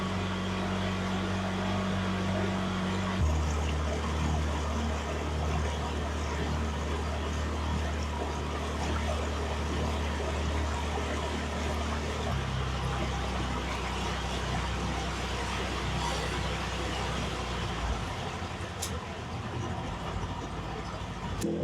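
A small boat motors away across the water off Koh Chang, Thailand, heading back to a hotel; a steady low engine drone with water wash holds throughout, fairly loud and continuous with no talk.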